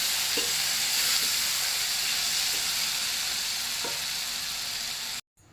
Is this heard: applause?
no